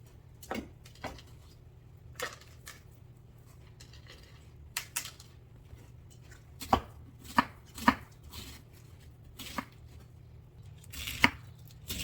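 A knife chops washed vegetables for a weeknight vegan meal on a cutting board, sparse irregular knocks, some in quick pairs, fairly quiet over a steady low hum.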